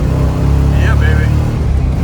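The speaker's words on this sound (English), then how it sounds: "Third gear rubber is pretty good." A 1966 Chevrolet Nova Super Sport with a factory 4-speed roars loud and close while laying rubber in third gear, engine drone under a brief tire chirp, with voices talking over it.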